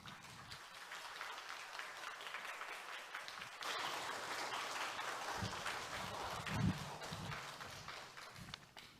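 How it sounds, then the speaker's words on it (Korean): Congregation applause in a church as a pastor is welcomed to the pulpit, a steady wash of clapping from many hands at moderate distance, holding evenly throughout with faint murmurs. "크게 박수로 환영하겠습니다"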